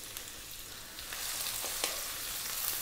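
Onion and chopped garlic hit a pot on high heat, alongside galangal and lemongrass for a mushroom tom yum soup, and set off a bright, steady sizzle that swells slightly, with a few scrapes of stirring and no talk.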